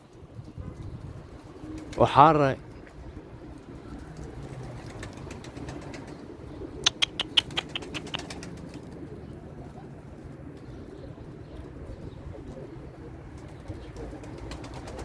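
Domestic pigeons in a rooftop loft coo softly in the background, with a loud burst of wing flapping early on and a second flurry of flapping midway, while someone talks quietly.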